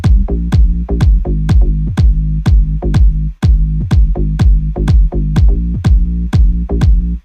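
Electronic kick drum and bass line from a track, heard together as a loud, steady four-on-the-floor pulse with deep sustained bass, a brief dropout near the middle, then continuing.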